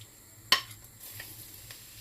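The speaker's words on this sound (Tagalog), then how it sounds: "magigisa na ako ng bawang at sibuyas" Garlic and onion hit a hot pan for a sauté, with a sharp clack of a utensil against the pan followed by a soft, quiet sizzle and a few faint stirring scrapes.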